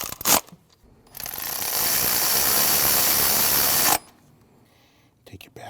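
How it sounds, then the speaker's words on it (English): A power tool runs in one steady, loud mechanical whir for about three seconds, snugging bracket bolts on a 2012-2016 Honda CR-V 2.4L L4 purge valve, framed by short clicks and handling knocks. "Now you can just snug those two bolts."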